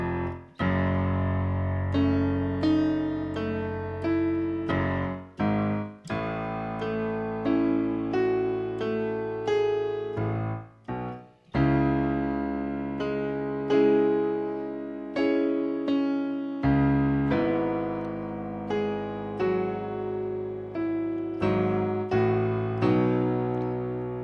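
Keyboard performs a passage of a song from bar 116, a continuous run of sustained chords and melody notes with brief gaps between phrases, played solo, close and clear.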